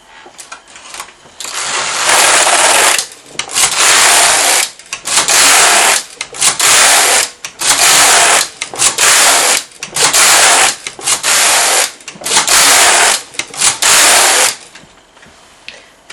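A Passap knitting machine knits 2x2 rib rows, its carriage rasping loudly across the needle beds in repeated sweeps of about a second each, with short pauses between passes and no voices.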